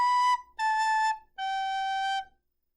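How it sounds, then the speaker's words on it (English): A recorder plays three clean, sustained whistle-like notes, the last slightly lower and longest, with short gaps between them, close and solo with no talk. "Right now, I have a recorder."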